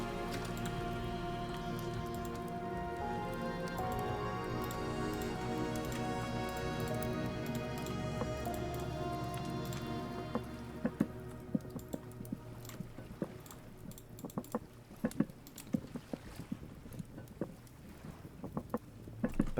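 In the game Vintage Story, steady rain falls as a constant wash, then turns into sparser, scattered drips and patters that tick irregularly over the later half.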